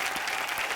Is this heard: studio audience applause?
yes